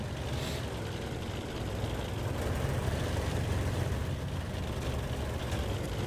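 Engine of an LHMTV light tank in a video game, a steady low rumbling drone at moderate level, continuous and unbroken with no talk.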